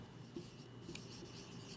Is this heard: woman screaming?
no